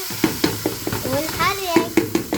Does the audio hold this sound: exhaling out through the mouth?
no